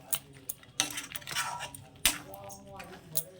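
A utensil stirring chicken marinade with kasuri methi in a pan, giving quiet, irregular clinks and scrapes of metal, close by.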